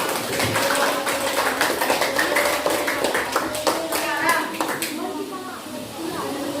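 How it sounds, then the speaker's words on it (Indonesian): Children clap their hands together in a classroom, a dense burst of overlapping claps that carries for several seconds and then tapers off, with some voices in the room. "Beri tepuk tangan untuk kita semua."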